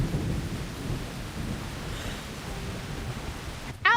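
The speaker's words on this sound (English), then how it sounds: "Outside, the rain grows heavier as if the entire world is being swallowed" Heavy rain and thunder in a video game: a low rolling rumble of thunder fades over a steady wash of rain, with a brief sharp sound near the end.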